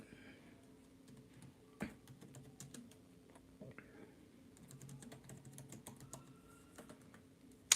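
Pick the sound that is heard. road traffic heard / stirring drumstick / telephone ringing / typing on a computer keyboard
typing on a computer keyboard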